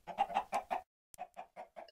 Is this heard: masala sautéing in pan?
no